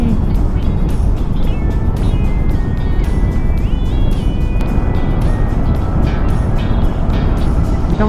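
A QJ Motor Fortress 400 maxi scooter being ridden at speed, a loud, constant engine drone and road rumble with heavy wind buffeting and a few rising tonal whines as it accelerates.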